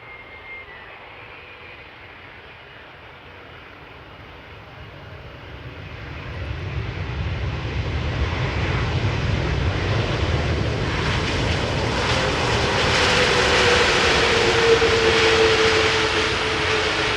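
A brand-new airliner at Amsterdam Schiphol Airport roars past, its engine noise swelling from a faint rumble into a loud, sustained whine and roar that holds toward the end.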